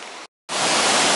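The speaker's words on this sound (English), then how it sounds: "there's probably the most impressive waterfall on this stretch of the river" Waterfall on the Afon Teigl river, heard as a steady, loud broadband roar of rushing water close by, with a brief gap of silence before the flow resumes at full strength.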